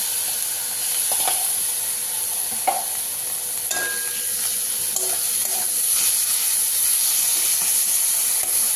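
Chili, cumin and turmeric powder with ginger-garlic paste sizzling steadily in a pan, a spatula scraping and stirring now and then with light clinks, continuous close frying hiss throughout.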